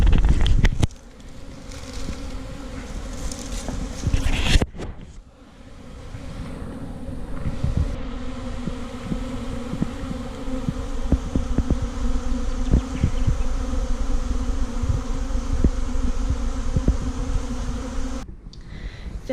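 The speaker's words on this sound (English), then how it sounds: "it looks like they may have swarmed again" A swarm of honey bees fills the air with a dense, steady buzzing drone, close and continuous for nearly twenty seconds. Wind rumbles against the microphone and there are occasional handling bumps.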